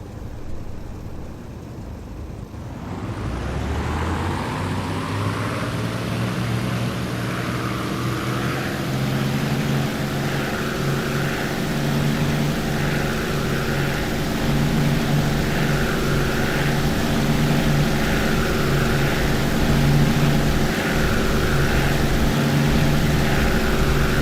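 P-51 Mustang propeller engine in the DCS flight simulator starts up from quiet and settles into a loud, steady droning roar with a rhythmic pulsing throb, continuous and close with no voices.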